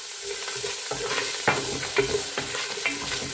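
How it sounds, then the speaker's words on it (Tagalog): Onions sautéing in a pan, a continuous close sizzle with a few distinct stirring scrapes spaced through it. "so magigisa na po tayo. Ilagay na natin yung ating onions"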